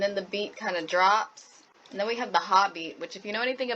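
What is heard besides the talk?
No distinct noise like a dog, phone or traffic.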